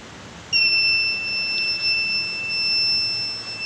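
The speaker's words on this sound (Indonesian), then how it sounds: "pastikan buzzer akan menyala." A buzzer on an IoT fire detector, part of an automatic trash-burning smoke filter, kicks in abruptly and holds a loud, continuous high-pitched electronic tone with a faint background hiss.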